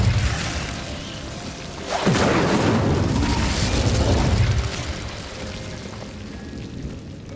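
Incendio fire spell cast in Hogwarts Legacy, a loud whooshing burst of flame that swells and roars for a few seconds before fading into a steady rumbling background.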